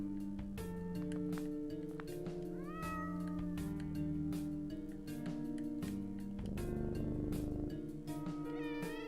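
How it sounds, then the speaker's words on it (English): Cartoonish cat meows repeat over a steady, dense music track in the game OneShot, several rising mews standing out mid-level against the bright background score, with no talk. "He's got lots of cats."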